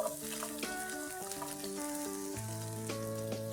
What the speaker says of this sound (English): Let's move on to frying the bhindi.